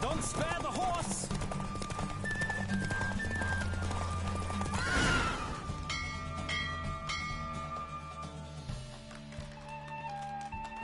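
Horse hooves clip-clop at a gallop during a race in The Witcher 3, layered over game music, with a brief swell of movement midway and a neigh or whinny among the steady, fairly loud hoofbeats.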